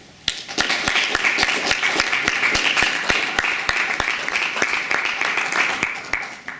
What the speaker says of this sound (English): just give a round of applause